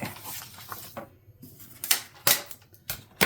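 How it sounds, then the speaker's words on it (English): A paper trimmer slices through cardstock during a Christmas wallet craft project, giving a few short scraping cuts and clicks in quick succession, close and fairly crisp. "I'm just going to mark it with my trimmer and to give me a starting point, and then I'll just cut it."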